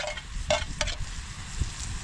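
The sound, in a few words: green chillies and onion being stirred and sautéed in a pan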